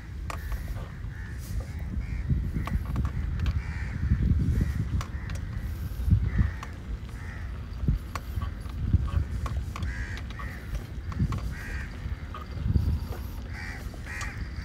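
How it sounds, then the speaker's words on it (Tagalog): Repeated crow caws ring out over a steady low rumble on Al Marjan Island in Dammam, Saudi Arabia, several birds calling at irregular intervals, moderately near. "Grabe, daming uwak."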